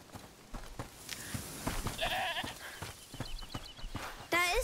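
Goat bleating in A Plague Tale: Requiem, a few wavering nasal bleats, the last one loud and close, over footsteps and light rustling, with voices talking in between.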